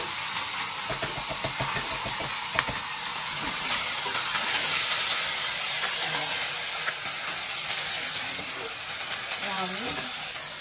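Food dropped into hot cooking oil, a loud, dense hiss and bubbling sizzle that swells and holds steadily close by, with some clattering early on and faint voices mixed in.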